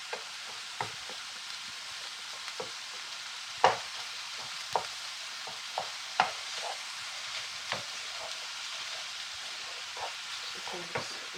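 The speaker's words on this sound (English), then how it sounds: "So just get the spatula in the shepherd's pie, make sure it's all cooking nicely." A spatula stirs and scrapes shepherd's pie cooking in a pan, with irregular sharp knocks and scrapes over a faint steady sizzle, close by.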